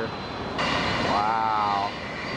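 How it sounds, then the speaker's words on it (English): An Air France airliner taxis at Atlanta airport, its jet engines giving a steady, fairly loud roar with a tonal whine that swells and then eases off. "And then Mr. Air France is also taxiing over here."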